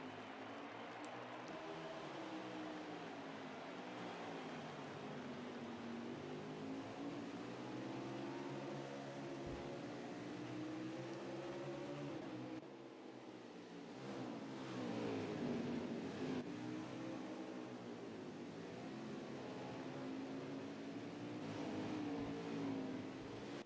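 Race cars on a restart at Charlotte, Thursday Night Thunder, roar in a sustained pack of engines accelerating and revving, loud and continuous, with pitch rising and sweeping as the field passes.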